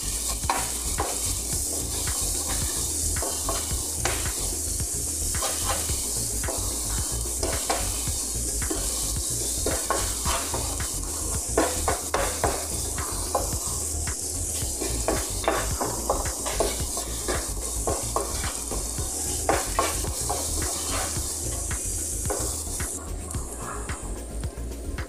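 Beef and peppers sizzle steadily in a hot pan for pepper steak, with a continuous loud frying hiss broken by frequent scraping stirs of a utensil throughout.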